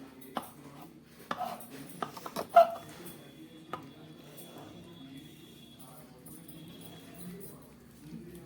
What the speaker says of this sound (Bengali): এইভাবে সমস্ত কচুরলতিগুলো আমি কেটে নিচ্ছি।